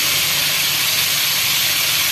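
Meat frying in a large amount of hot oil with whole cumin and garam masala for degi korma, a loud, steady broadband sizzle and hiss with no talk.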